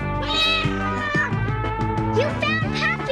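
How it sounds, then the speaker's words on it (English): Cartoon kitten meowing in a run of bright, high, wavering mews over steady background music, with a voice briefly heard in the mix. "I heard her meowing."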